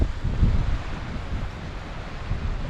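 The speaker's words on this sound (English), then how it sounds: "this easterly wind is starting to pick up now" Easterly wind blowing at a sea shore fishing spot, a loud steady rumble of gusts buffeting the microphone over low surf.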